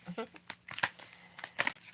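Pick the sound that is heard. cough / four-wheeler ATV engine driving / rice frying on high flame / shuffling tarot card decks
shuffling tarot card decks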